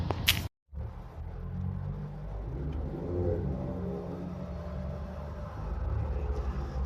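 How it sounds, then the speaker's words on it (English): Volkswagen Golfs and a Seat Leon pulling out of a car park, a steady low engine rumble with rising revs as the cars move off, preceded by a brief click. "just watching a couple of Golfs and Leon moving out of the car park"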